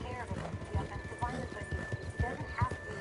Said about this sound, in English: Is my horse tired?